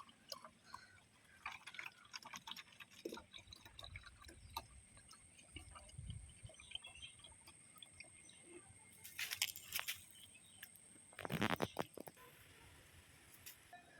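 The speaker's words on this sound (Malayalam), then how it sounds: "വെള്ളം ആഡ് ചെയ്യുവാണ്." Water trickles and drips quietly into a plastic bottle while diluting liquid fertilizer, with two short, louder gushes of pouring near the end.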